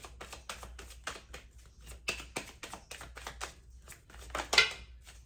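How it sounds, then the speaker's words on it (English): A deck of tarot cards is shuffled close up with a run of quick, papery slaps and flutters in uneven bursts, fairly quiet and with no talking. "It's not the easiest deck to shuffle."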